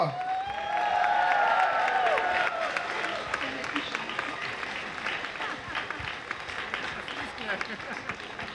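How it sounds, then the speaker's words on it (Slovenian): Loud crowd applause outdoors at the Walk for Life march in Ljubljana, sustained clapping from many people, with a voice speaking over the start before the clapping carries on alone. "Še en bučen aplavz za Uršo!"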